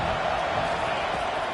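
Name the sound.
loud football stadium crowd cheering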